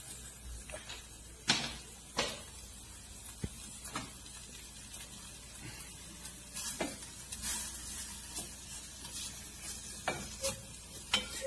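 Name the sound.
bacon frying and melting in a thin-walled pot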